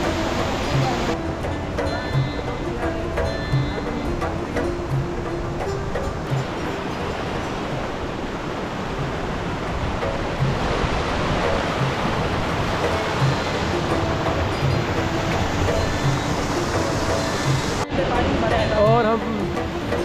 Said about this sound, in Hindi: और हम बिलाखिर आखिरकार जारोगो वाटरफॉल पे पहुंच गए। ये वाटरफॉल देखिए